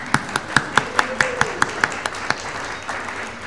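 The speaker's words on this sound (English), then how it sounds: "we should give thanks to them, and we will by clapping for them right now." A group claps steadily, individual hand claps clearly spaced and close, fading out toward the end with no talking.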